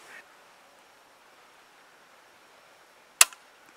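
A single sharp crack of a blank-firing gun rings out once, loud against a quiet outdoor background, with a brief faint echo after it.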